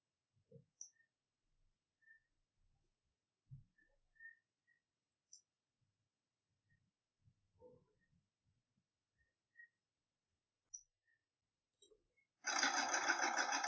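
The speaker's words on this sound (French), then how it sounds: "Vous relancez votre machine à broder." A home embroidery machine starts stitching an appliqué on fabric held in its hoop. The loud, buzzing whir of the needle arrives abruptly at the end, after a long near-silent stretch with scattered small clicks and handling sounds.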